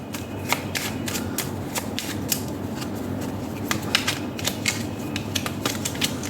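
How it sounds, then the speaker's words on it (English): Tarot cards being shuffled by hand give a run of crisp riffling snaps and soft flicks, close up and steady over a quiet room. "You've seen me shuffling."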